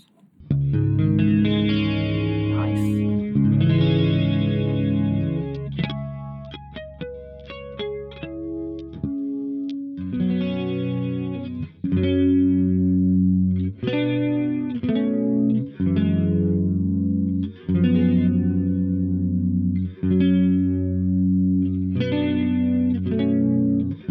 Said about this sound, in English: put some effects here, so maybe a little bit of chorus